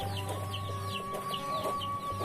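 Chickens cluck nearby in short, repeated notes over a steady low hum while being fed leftover rice outdoors.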